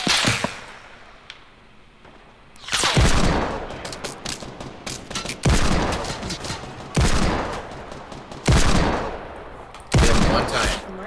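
Video game gunfire erupts in repeated loud bursts of rapid shots and explosive blasts, separated by short quieter gaps, with voices talking faintly between volleys.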